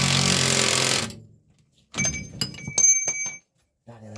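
A pneumatic impact gun tightens 9/16 bolts on a dumper truck's universal joint during gearbox repairs: a loud sustained rattling burst, then after a short pause several shorter hammering bursts with metallic ringing, close by.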